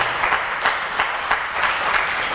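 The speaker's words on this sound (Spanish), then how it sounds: "Démosle un aplauso fuerte a nuestro Dios, porque Él está con nosotros." A church congregation claps for God in a strong, sustained round of applause, dense and even with a faint rhythmic pulse of clapping, close and loud, with no talking.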